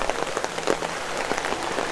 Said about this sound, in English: you get to Arizona and it rains